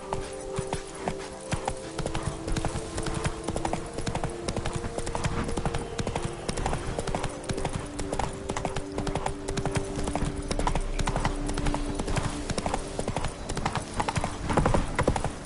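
Roach the horse trots along in The Witcher 3, her hooves clip-clopping in a steady, continuous rhythm close by, with sustained musical tones underneath throughout.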